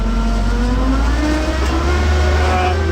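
A 1959 Land Rover Series II 109-inch pickup in low range four-wheel drive crawls over gravel, its engine droning steadily and loudly up close, with a constant low rumble and a rising, revving pitch throughout.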